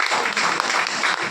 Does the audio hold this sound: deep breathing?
no